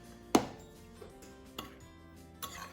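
Vanilla sugar mixture is stirred in a bowl for vanilla crescent cookies, giving four sparse clinks of a utensil against the bowl, the first sharpest and loudest, with quiet scraping between them.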